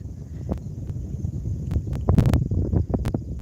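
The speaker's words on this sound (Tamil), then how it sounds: "இங்கே காற்று தான் ரொம்ப அடிக்குது" Strong wind buffets the microphone in gusts, a low rumbling roar with a few sharper knocks and clicks.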